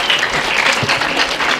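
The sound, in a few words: audience applause at a ceremony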